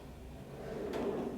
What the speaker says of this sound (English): And this glass top design also has a drawer. Just glides out smooth